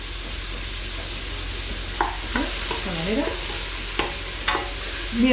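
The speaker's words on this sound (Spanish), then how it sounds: "Y lo rehogamos bien" Ingredients for a chickpea stew being sautéed in a pan, a steady sizzling hiss with spoon scrapes and knocks against the pan at irregular intervals.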